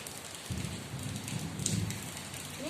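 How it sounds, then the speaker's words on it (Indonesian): Rain and fine drizzle fall outside in a soft, steady hiss of patter, continuous and fairly quiet, with no voices over it. "soalnya kan saya barengan sama hujan sama rintik hujan."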